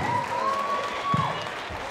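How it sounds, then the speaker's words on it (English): Crowd applause for a Muay Thai fighter at a live fight event, a steady wash of clapping from the audience with a faint tonal hum running beneath it. "And once more, a round of applause for Luke Horton, ladies and gentlemen."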